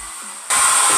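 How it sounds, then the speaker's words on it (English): A hair dryer blowing on a lace frontal wig at a low, cool setting starts with a faint hum, then jumps to a steady, loud, close airy whoosh that holds for the rest of the moment. "And then we blow dry on low to cool heat."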